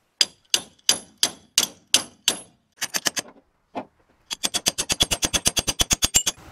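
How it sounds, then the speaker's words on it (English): Wrench tapping on the bolts of an Andersen Ultimate fifth wheel hitch: a series of sharp metallic taps, a few slow strikes at first, then a fast, steady run of loud, close clanks. "We're just going to tap them with a wrench."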